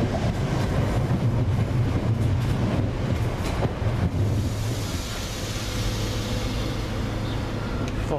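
A South West Trains electric unit, 455918, passes by with a steady, loud rumble and rushing roar that fades slightly toward the end, with wind buffeting the microphone.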